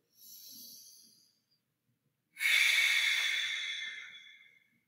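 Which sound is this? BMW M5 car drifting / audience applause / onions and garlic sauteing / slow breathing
slow breathing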